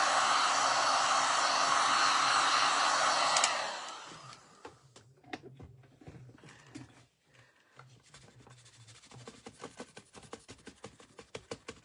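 A hair dryer blows loud and steady, drying paint on a hand-painted watering can, then cuts off abruptly after about three and a half seconds, leaving quiet brushing and handling noises.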